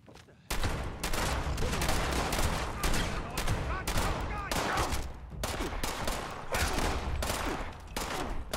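Sustained gunfire in the online game Fallout 76, with dense, rapid, loud bursts of automatic shooting running almost continuously, briefly interrupted by short pauses.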